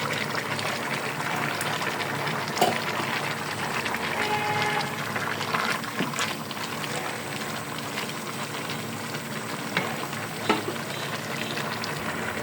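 Mixed vegetables with pumpkin simmering in a home kitchen pan just after tomatoes go in: a steady, soft bubbling sizzle with occasional small clicks and pops, continuous and fairly quiet throughout.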